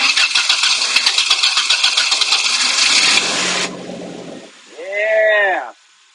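A 2001 Toyota Tacoma with the 2.7L four-cylinder, which had stalled while driving, cranks steadily for several seconds before catching and running briefly, with a loud close rev near the end; people talk over it.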